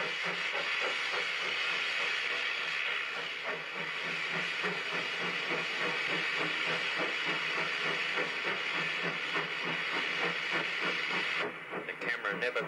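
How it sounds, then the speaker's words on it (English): A steam locomotive blows off steam inside a tunnel, a loud, continuous roaring hiss that persists throughout, with rhythmic mechanical chuffing beneath and a brief dip near the end. "as we pass through the second one, the locomotive blows off"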